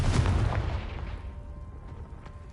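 Confringo fire spell in the Hogwarts Legacy video game blasts apart a blocking pile: a loud, booming burst up front that rumbles and fades away over a couple of seconds, with no voices.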